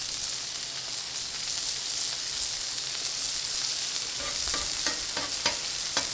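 Steady sizzling of a burger frying on a hot griddle, with scraping and light clattering toward the end; no voices.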